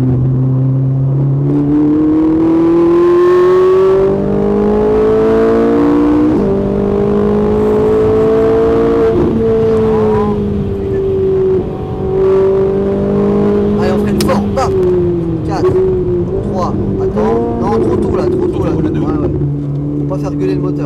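A Ferrari 458 engine revs and pulls hard on the Haute Saintonge race circuit, its pitch climbing and settling through the gears, with people talking over the steady motor noise.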